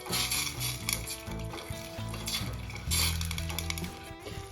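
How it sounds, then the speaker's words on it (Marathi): A tadka of green chillies, curry leaves, coriander, sugar and water bubbles and sizzles in a pan, a busy close simmer with faint utensil clinks and soft music underneath. "आता तुम्ही बघू शकता आता आपल्या तडक्यावर छान उकळी आलेली आहे"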